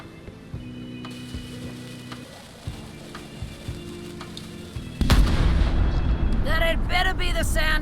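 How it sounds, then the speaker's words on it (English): Heavy ship's cannon blasts boom out in a Return to Monkey Island game scene, a loud burst of repeated firing and rumble following quieter mechanical thuds and a voice. "Ready for cannon firing."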